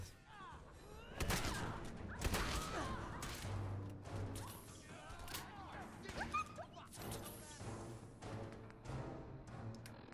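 Laser gunfire in Fallout 4 rings out as rapid bursts of sharp crackling shots and impacts, loud and close, mixed with clattering hits across the scene.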